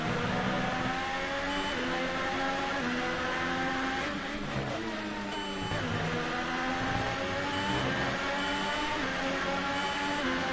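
Roaring engine of a McLaren Formula 1 car in F1 2018 on the Russian circuit, a loud sustained high-revving whine that rises and falls through gear changes, with no talk over it.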